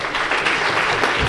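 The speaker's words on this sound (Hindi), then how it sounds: "खान रिजवाना के लिए जोरदार तालियां।" Brief burst of hearty audience applause in a hall at an educational conference, dense clapping throughout the short moment.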